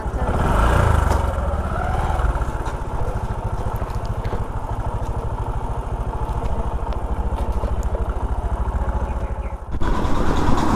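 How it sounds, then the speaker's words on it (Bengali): Motorbike taxi engine running steadily throughout a ride, a loud close rumble with road noise and wind, briefly dropping near the end before picking back up. "রাপিডো বাইকে চালি, রাস্তাগুলো সবাই চালি, ওখানে চলে এসেছি।"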